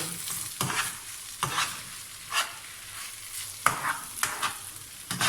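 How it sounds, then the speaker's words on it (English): Rice being stirred and worked around a hot frying pan, a steady sizzle broken by repeated scraping strokes of the utensil roughly every second, close and fairly loud with no talking. "Working it in, working it in, working the rice in."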